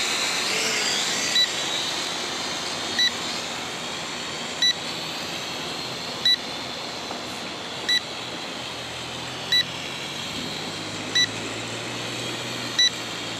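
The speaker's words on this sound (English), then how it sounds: "the transmitter is beeping" A transmitter for an Eachine E511 drone, a Mavic Air clone, gives short high beeps at a steady interval of roughly every one and a half seconds, over the constant buzz of the drone's motors.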